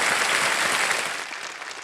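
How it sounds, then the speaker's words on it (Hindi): Studio audience applause on the KBC (Kaun Banega Crorepati) Season 15 game show: a full, steady wash of clapping that stays strong, then eases slightly toward the end. "तालियों के साथ आपका स्वागत"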